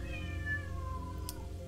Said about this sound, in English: Oh, my cat meows.